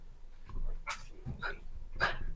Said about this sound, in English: It's a Jack Russell Chihuahua cross.